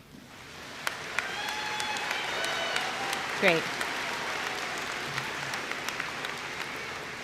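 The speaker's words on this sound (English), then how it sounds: "If the parents and everyone wants to applaud for that first group," Audience at a Dalton State College spring commencement ceremony applauds steadily for a group of graduates, a broad sustained wash of clapping from a large crowd with a brief spoken word near the start.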